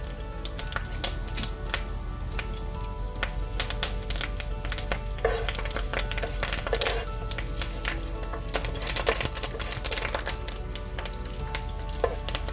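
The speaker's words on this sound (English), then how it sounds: "Fresh curry leaves tend to splatter." Fresh curry leaves splattering and crackling in hot oil, a loud, dense sizzle with sharp pops scattered throughout, close up and steady, with no voices.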